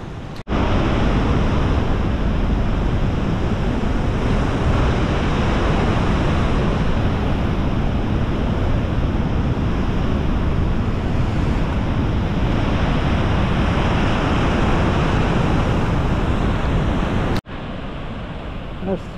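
Vernal Fall waterfall on the Mist Trail sends up a steady, loud broadband roar of falling water and blowing spray, continuous and close, with wind buffeting the microphone and a brief dropout near the end.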